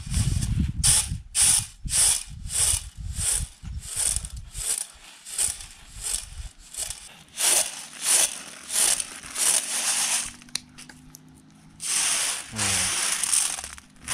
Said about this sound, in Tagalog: Ang ingay nitong bilao na to.